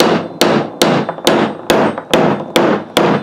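A hammer drives a nail straight down with eight sharp, evenly spaced blows about 0.4 seconds apart, each loud and close with a short ringing decay, and no talking.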